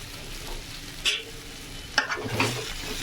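Pieces of yam, taro and potato fry in a pan for a Bengali fish curry, a steady soft sizzle with a few sharper clinks and stirring scrapes of a utensil against the pan.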